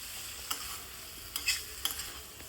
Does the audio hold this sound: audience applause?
no